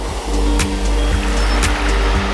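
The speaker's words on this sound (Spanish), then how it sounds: "estas altas paredes hacen también rebotar el sonido del oleaje, provocando un efecto envolvente" Surf washing against the high cliff walls of the Portuguese coast between Arrifana and Carrapateira, a steady broadband roar with a few soft crashing swells, close and fairly loud, echoing around the rock.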